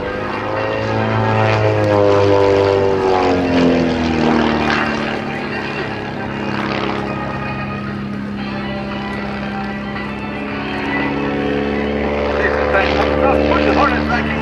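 Aerobatic biplane with a 230-plus horsepower IO-360 engine droning overhead at an airshow, its propeller pitch rising and falling through manoeuvres, steady and moderately loud under continuous talk.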